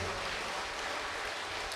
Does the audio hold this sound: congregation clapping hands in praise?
yes